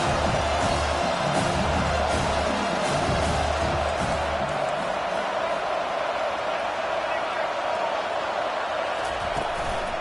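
A stadium crowd in an NCAA college football video game roars in a steady, dense wash of cheering throughout, with a commentator's voice running over it.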